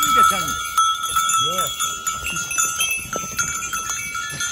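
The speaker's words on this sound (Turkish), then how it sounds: "bunlar oğlak." A herd of goat kids with bells: bleats rise and fall over constant jingling and clanking of many bells, close and fairly loud, with some voices in the background.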